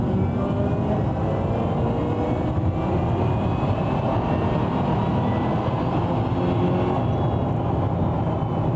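An Aston Martin V8 Vantage engine revs up from about 1,000 RPM into a loud, dense, continuous roar that stays close and unbroken throughout, with no voices.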